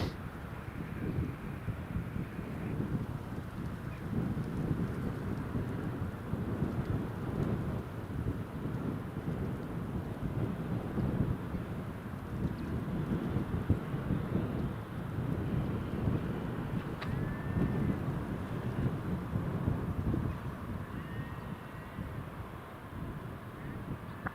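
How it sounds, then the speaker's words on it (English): Steady rain with rumbling thunder and gusting wind at Newcastle International Airport, a continuous broadband wash of rainfall under low wind buffeting on the microphone, close and fairly loud throughout with no clear talk. "This rain's just suddenly come in."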